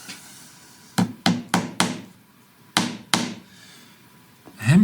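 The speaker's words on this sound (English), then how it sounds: "hammer them in just behind where this circular piece will sit." Sharp hammer strikes drive fine panel pins into a wooden Edwardian coat rack, a quick run of four close, loud taps, a pause, then two more blows, with a final knock at the end.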